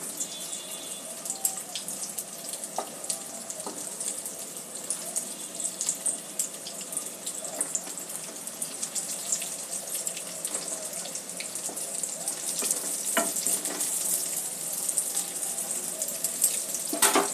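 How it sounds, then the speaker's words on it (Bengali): Cauliflower kebabs shallow-fry in a pan, browning lightly on both sides, giving a steady close hiss scattered with small crackles and pops and no voices. "কাবাবগুলো এপিট ওপিট হালকা ব্রাউন করে ভেজে নিলেই হবে। খুব বেশি ডিপ ফ্রাই না করলেও চলবে।"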